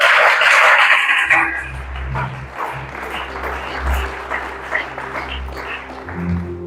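A church congregation claps loudly for about a second and a half, then the applause cuts off and low hum, murmuring and scattered noise follow.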